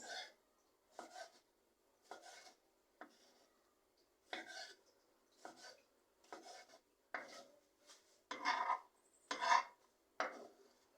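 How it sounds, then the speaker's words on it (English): A knife slices tomatoes on a board in a kitchen, making about a dozen crisp, evenly spaced cuts that come a little louder toward the end. "Then I will slice my tomatoes."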